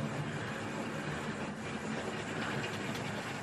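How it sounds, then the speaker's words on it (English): A Hornby model train set running on its track with a brake van added, a steady faint mechanical whir and rattle throughout with no talk. "Lovely little train set."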